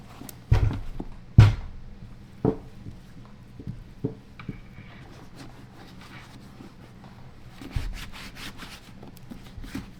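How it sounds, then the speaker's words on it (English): Wax being rubbed by hand into Jim Green Rugged African Trooper leather boots: soft, close scuffing and rubbing strokes with a few sharper knocks, fairly quiet, with no speech. "Just basically just get in there with the wax and try to cover everything."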